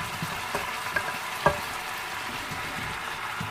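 Cauliflower and other vegetables stir-frying in a pan with chicken breast for chop suey, a steady low sizzle running throughout with a few brief clinks of a utensil against the pan.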